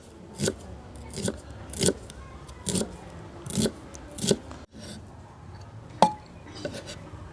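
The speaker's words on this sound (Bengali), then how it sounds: "পেঁয়াজটা কুচিয়ে নেব।" Knife chopping onion on a board for dosa, a steady series of crisp close cuts at about one per second, quiet, with a short pause before a final couple of chops.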